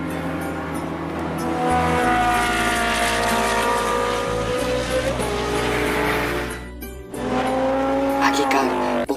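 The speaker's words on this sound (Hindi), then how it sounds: "चलो जल्दी चलाता हूँ गाड़ी, जल्दी से उसका घर पहुँचता हूँ" A car in the video game Free Fire drives fast with a loud, continuous engine roar and tire noise, its pitch shifting as it speeds along, briefly dipping before surging again.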